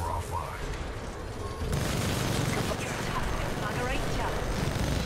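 Enemy gunfire in a sci-fi shooter video game, dense rattling bursts and booming impacts that continue steadily, with a player talking over the noise.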